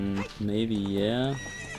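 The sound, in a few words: horse neighing in the video game Ocarina of Time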